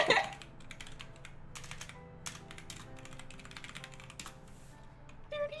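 Soft, rapid keyboard typing clatters continuously at a low level, with irregular clicks and a faint background hum.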